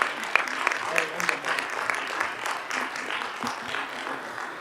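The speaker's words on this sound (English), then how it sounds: "How about one more round of applause for these guys?" Applause from a board of education meeting audience lasts the whole stretch, a dense, steady patter of many hands clapping in a hall. It never swells or fades much, and voices mix into it.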